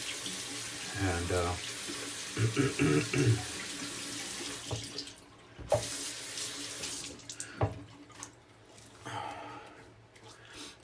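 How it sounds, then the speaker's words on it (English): Sink faucet running for a warm then cold rinse after a shave, water splashing loudly at first, then quieter rinsing and dripping with hand sounds, a brief word spoken. "More warm water, cold water rinse."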